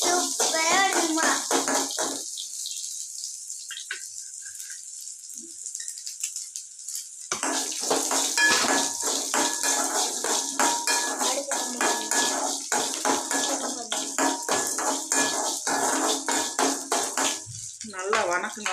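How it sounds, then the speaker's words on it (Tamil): Ginger sautés in a pan with a spatula, busy sizzle and rapid metallic scraping and clatter, close by, pausing briefly in the middle before resuming steadily. "கொஞ்சம் இஞ்சி போட்டுக்கோங்க. அதையும் நல்லா வதக்கிக்கோங்க."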